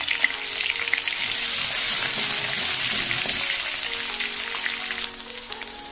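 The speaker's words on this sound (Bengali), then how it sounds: "ফোড়ন ফুটে উঠলে আমি আদাটুকু দিয়ে দিলাম।" Ginger sizzles and crackles loudly in hot oil that already holds a cumin tempering. The frying continues as a dense, unbroken hiss throughout, with no voices.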